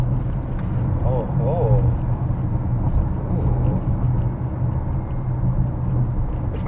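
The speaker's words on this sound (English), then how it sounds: "But I love the acceleration" Tesla car accelerating hard, a steady low engine-and-road rumble heard from inside the cabin under brief talk.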